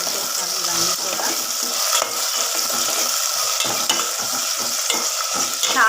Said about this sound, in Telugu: సో లైట్గా ఫ్రై చేసుకోవాలి ఇవన్నీ కూడా.